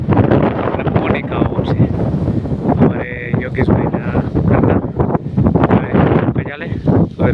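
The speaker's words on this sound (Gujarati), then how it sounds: "પવન પણ અત્યારે જોરદાર છે" Strong, gusty wind sweeps across an open field during a pigeon pea harvest, buffeting the microphone with a loud, rough roar that rises and falls, while people talk through it.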